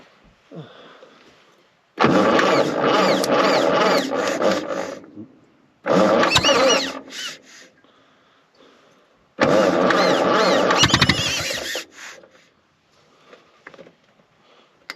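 A Fordson E27N tractor engine fires up in three loud, rough bursts of running, each lasting a few seconds, with near-silent pauses between them.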